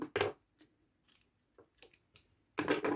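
Scissors snip through crochet yarn while finishing a motif for a handmade bag: a few crisp cuts, one at the start and another near the end, with faint small handling clicks between them and no talking.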